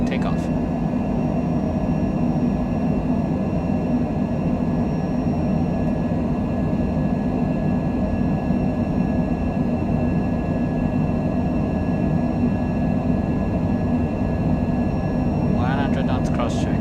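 Airliner taking off in a flight simulator game, a steady loud engine roar holding throughout with a faint tonal whine above it and brief voice at the edges.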